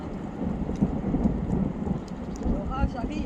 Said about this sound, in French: Ah bah voilà l'orage.